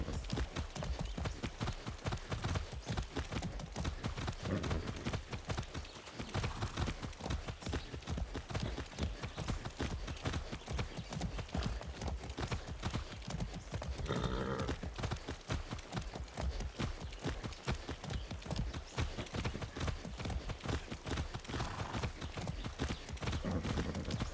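Horse hooves clip-clopping in the Far Cry 6 video game on PlayStation 5, a fast, steady, unbroken run of hoofbeats that continues at an even, moderate level throughout.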